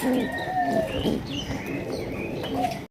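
Several Raj Golla pigeons coo nearby, their low throaty calls overlapping in a continuous murmur, with a faint higher chirp now and then.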